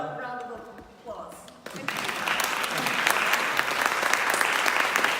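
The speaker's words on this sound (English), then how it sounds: "let's give a warm round of applause" An audience breaks into a warm round of applause, starting after a brief spoken introduction and swelling into steady, dense clapping that fills the room for several seconds.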